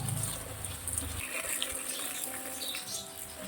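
Water pours onto potted garden plants, a steady close splashing stream that flows evenly for a few seconds, with no voices.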